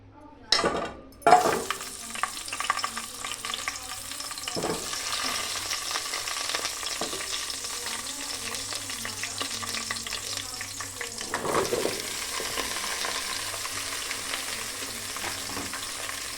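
Cut drumsticks and carrots frying in oil in a pan for pappu charu, a steady close sizzle with occasional stirring clinks and scrapes, a sharp burst near the start, then continuous frying hiss.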